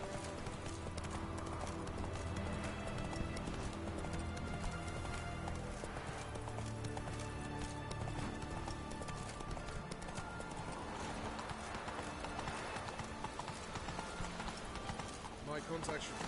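Hoofbeats of the horse Roach in The Witcher 3 game, a steady clip-clop of riding mixed into dense game music and ambience, with someone briefly speaking over it.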